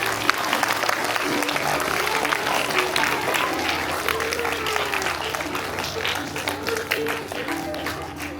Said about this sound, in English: clap loudly for Neeru ma'am.